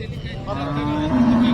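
A cow at a cattle market in Modnimb, Solapur, Maharashtra gives a loud, close, drawn-out moo that swells and holds its tone.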